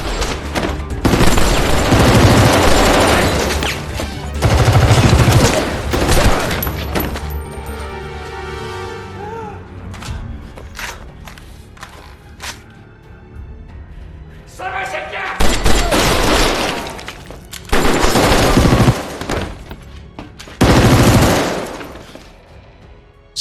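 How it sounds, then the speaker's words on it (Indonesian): A film shootout between an undercover police officer and drug-gang members brings loud, heavy bursts of automatic gunfire with thuds and booms. The gunfire comes in waves under a continuous spoken voice. "Kembali ke Wunho yang kali ini harus baku tembak dengan Jin Harim"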